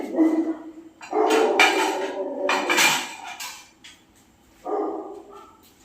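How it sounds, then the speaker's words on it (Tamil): A house dog barks in loud, close bursts inside a home kitchen, mixed with the clatter of plates and utensils while chapathi is being made. "எங்கள் வீட்டு நாய் கத்துது."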